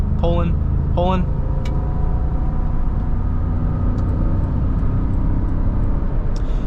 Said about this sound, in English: Gets it up to speed, no problem at all.